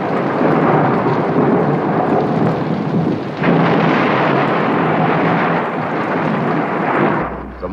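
A loud, close thunderstorm: continuous heavy rumbling thunder with rain pouring steadily throughout, cutting off abruptly at the end.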